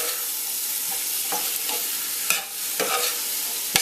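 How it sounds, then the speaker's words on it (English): Curry pigeon peas tossed in a hot frying pan, sizzling loudly and continuously while a few distinct stirring scrapes cut through, with no talking. "Give that a quick toss in here because we want to pick up all that curry richness from the bottom of the pan"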